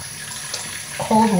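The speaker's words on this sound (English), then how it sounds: "And then I will just rinse off my face with" A tap runs at a bathroom sink while someone rinses their face during a nighttime skincare routine; a soft background hiss swells into a louder rush of water in the last half second.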